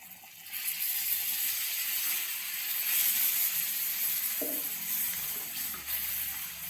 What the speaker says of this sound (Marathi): त्यात आता गरम पाणी टाकायचं